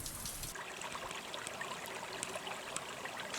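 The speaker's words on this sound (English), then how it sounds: "everything is wet as the meltwater makes its way down to the ocean" Meltwater runs across an ice cap in a steady, faint trickling stream, a continuous soft wash with small splashes throughout and no one talking.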